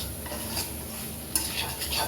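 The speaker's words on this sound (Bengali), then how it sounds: "আলুগুলো ভালোভাবে কষিয়ে নিলাম।" Potatoes sautéing in a pan with spices, a continuous soft sizzle under a few light stirring scrapes and a brief utensil clink, close and moderately quiet, with no voices.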